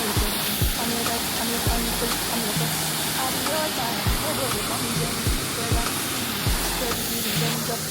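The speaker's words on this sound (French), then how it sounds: "on s'est fait une première cascade" A waterfall pours steadily on a hiking outing, a continuous loud broadband rush of falling water filling the scene, with faint voices and occasional low thumps underneath.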